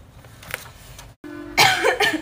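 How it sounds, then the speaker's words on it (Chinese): A person coughs indoors during a relaxed home conversation, a few rough bursts in quick succession near the end after a stretch of quiet room noise. "咳嗽了还。"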